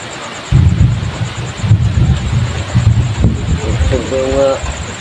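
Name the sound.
loud thunder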